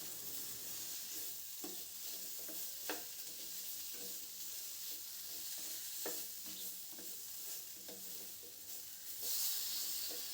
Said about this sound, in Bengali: এবার তরকারিটা একটু ভালো করে নেড়ে দেব।